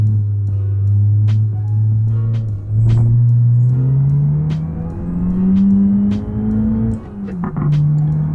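A Hyundai i20 N driving in the BeamNG Drive video game: a loud, steady engine drone whose pitch sags, then climbs gradually and dips again near the end, with no voices.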